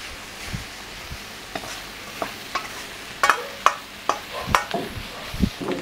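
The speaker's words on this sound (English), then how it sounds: "Add some onion scallions and toss." Crispy fried lotus stem is tossed with onion and scallions in a hot pan, with a low sizzle under a series of irregular sharp clanks and scrapes from the pan and utensil, growing busier midway.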